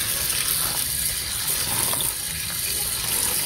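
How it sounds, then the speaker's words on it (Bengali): Finely chopped young red amaranth greens, gritty with sand, are rinsed under running water, a continuous close splashing and gurgling with light clattering. "শাকটা আমি পরিষ্কার করে ধুয়ে নেব"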